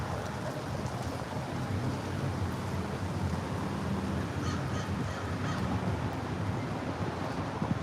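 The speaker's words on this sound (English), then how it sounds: "Crows having a meeting." Crows caw overhead in a city street setting, giving several short, harsh calls at mid distance over a steady background rumble of outdoor noise.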